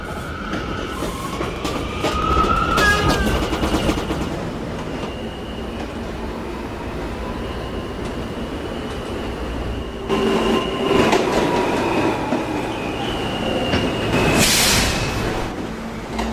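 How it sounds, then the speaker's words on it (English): An R160A subway E train runs on rails, a continuous rumble with rising and falling motor whine, brief wheel squeals and track clatter, loud and close throughout with no talk. "This is an Olsen Terminal bound E train."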